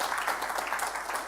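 Audience applause at a corporate full-year results announcement, a steady wash of many hands clapping at moderate volume, heard a little distant in a large hall.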